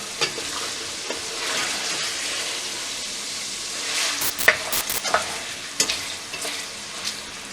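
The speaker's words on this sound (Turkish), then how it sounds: "kavurma işlemine devam ediyorum" Onions and meat for a beef stew sauté in a pan, giving a continuous close sizzle with scraping stirring strokes and a few sharper spits and clatters near the end.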